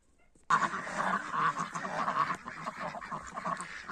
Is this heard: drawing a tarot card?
no